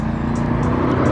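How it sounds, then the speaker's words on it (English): Cars drive past on a busy road beside a finished 2018 Subaru WRX, making a loud, continuous roar of traffic with no letup. "it's gonna be super loud right now because of all the cars that are driving by"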